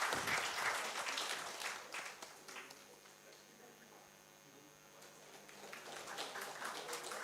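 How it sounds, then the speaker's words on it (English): Applause from the audience at a formal academic session as the chair is felicitated, a dense wash of clapping that swells, thins out midway, then picks up again near the end. "Can we please have a big round of applause?"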